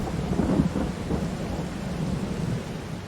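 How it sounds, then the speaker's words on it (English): Heavy rain pours with deep rumbling thunder in the Farming Simulator 22 video game, a dense, steady wash of falling water with low booming rolls throughout. "Really now just stood at the doorstep waiting for the rain to let off."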